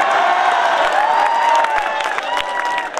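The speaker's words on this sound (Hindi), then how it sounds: "थोड़ी तालियां आपकी कमजोर है" Audience at a comedy poetry event applauds and cheers in a sustained, dense burst of clapping that holds steady for a few seconds, loud and close.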